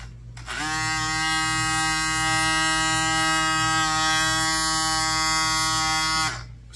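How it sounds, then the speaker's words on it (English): A small electric motor for a 1/12 scale RC submarine torpedo runs on 12 volts, giving a steady close whine that starts abruptly and holds evenly for about six seconds before stopping. "I'm just gonna throw 12 volts on the motor."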